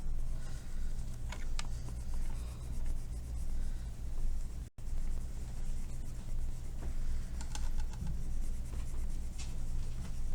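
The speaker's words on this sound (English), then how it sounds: "I'm pressing pretty hard with the colored pencil" A colored pencil presses hard on paper in circular blending motions, with a continuous close scratchy rubbing that stays steady throughout, alone and without talk.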